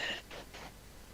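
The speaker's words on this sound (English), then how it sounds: "Cough." A single short cough, a couple of quick bursts of breathy noise, close and fairly soft.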